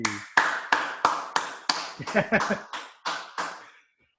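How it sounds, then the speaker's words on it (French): A single person claps ten times in a slow, even rhythm, each clap sharp and close with a short ring, stopping clearly before the end. "Clarkens qui applaudit aussi."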